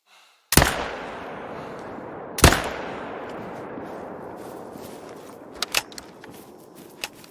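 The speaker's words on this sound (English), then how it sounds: "Try to shoot that target. Still using the rifle, of course." Rifle fire at a target in the hunting video game theHunter: two loud, sharp shots a couple of seconds apart, each trailing a long rumbling echo, followed by a few faint mechanical clicks.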